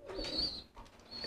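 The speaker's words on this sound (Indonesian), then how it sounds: "Oke, ini kan piyikan nih, masih bunyi pisan." A young pigeon squab coos softly nearby, giving two short, breathy calls separated by a brief pause, with nobody speaking.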